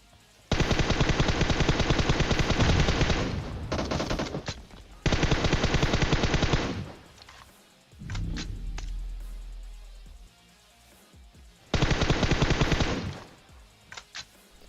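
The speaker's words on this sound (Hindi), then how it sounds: "सिर्फ झाड़ियों पे गोलियां लगती है" Gunfire in a shooting video game: long bursts of automatic fire, loud and close, separated by pauses, with a short rumbling engine-like passage in between.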